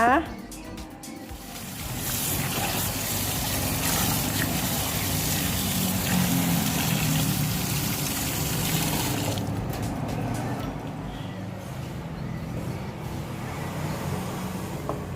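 Stripped som lom leaves being washed by hand in a basin of water in a kitchen: steady close splashing and swishing with trickles, no speech over it, settling into quieter sloshing toward the end.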